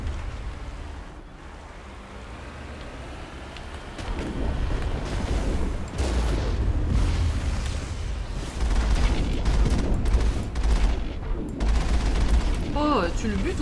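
Gunfire in Mass Effect, a dense, continuous rattle of shots and booms that grows louder after a few seconds and stays intense. A brief voice-like sound comes near the end.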